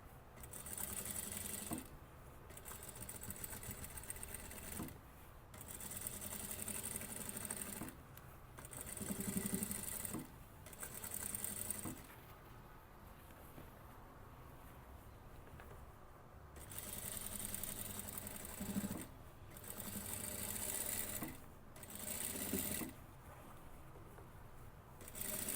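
Sewing machine topstitching fabric along the length of an asymmetric dress, sounding in repeated bursts of steady mechanical whirring separated by short pauses, fairly close and alone with no talk.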